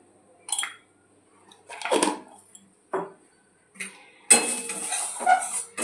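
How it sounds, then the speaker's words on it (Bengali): Tempering spices being stirred in a pan before tamarind is added, with intermittent scrapes and clinks of a utensil against the metal pan in short bursts, ending in a louder sizzling stretch. "ফোড়নটা একটু নেড়ে চেড়ে দিয়ে"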